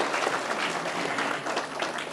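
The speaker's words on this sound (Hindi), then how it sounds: "जोरदार तालियां लक्ष्मी नागड़ा के लिए।" A crowd at an award ceremony, the Plan India Impact Awards 2024, gives an award winner dense, continuous applause, a loud, close wash of overlapping claps with no individual strokes standing out.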